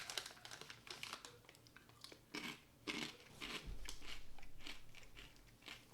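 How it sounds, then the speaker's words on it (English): Loud, close crunching of a snack being chewed, repeated bites and crinkly crunches in a steady run, with a low bump partway through and no talking. "this crunching is super fucking loud"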